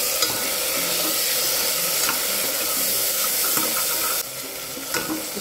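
Loud, steady frying sizzle from a home kitchen pan, where lightly browned onions cook with freshly added tomatoes and green chili, a dense hiss running throughout with a slight drop near the end and no talking.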